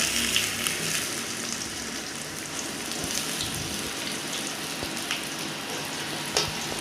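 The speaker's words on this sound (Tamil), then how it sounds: "இப்போ நான் வந்து வெங்காயத்தை வந்து ஆட் பண்ணிக்கிறேன்." Onions frying in hot oil in a kadai with cinnamon and cloves for chicken chukka, giving a steady, even sizzle and crackle throughout, close and unbroken, with a few faint clinks and no talking.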